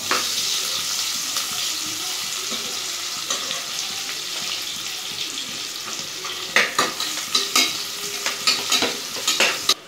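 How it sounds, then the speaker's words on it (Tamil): Onions fry in hot oil in a pan for prawn biryani, giving a loud, continuous sizzle. Toward the end, a spoon stirs and scrapes against the pan in a quick run of knocks. "வெங்காயம் போட்டு நல்லா கோல்டன் ப்ரௌன் வர வரைக்கும் நல்லா ஃப்ரை பண்ணிக்கணும்"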